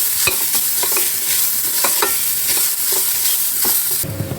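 Grated coconut dry-roasts in a pan for a wild lemon curry, with a steady soft crackle and repeated scraping strokes of a spoon stirring it, close and continuous.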